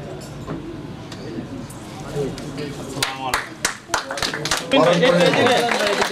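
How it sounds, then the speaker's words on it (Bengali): At a cooperative society's annual general meeting, an audience claps to welcome a new office-bearer, scattered claps building into louder, denser applause, mixed with talk over a sound system. "সবাই করতালির মাধ্যমে বরণ করে নেব।"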